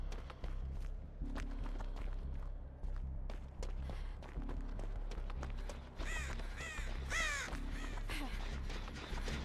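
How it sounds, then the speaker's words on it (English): Crows in a video game caw repeatedly in harsh, clustered calls over steady game ambience and footstep-like thuds, the caws growing louder and busier toward the end as the flock takes off. "I scared all those crows and made scratch marks"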